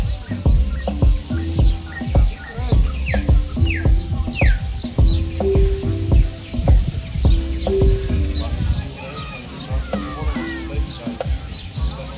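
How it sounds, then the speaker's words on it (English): Colorful birds chirp around a beach in Curaçao where chickens also roam, with repeated short tweets and calls over a steady outdoor background murmur, moderately near and continuous throughout. "This beach had colorful birds and chickens walking around."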